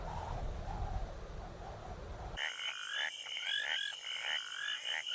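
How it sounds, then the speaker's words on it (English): Frogs and toads croak. A low, rough chorus gives way to louder, higher repeated calls, close and continuous, with no voices. "frogs and toads, who are reputed to croak louder before rainfall"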